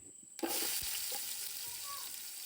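A single onion hits a hot pan and bursts into a sudden, close sizzle that carries on steadily for a couple of seconds.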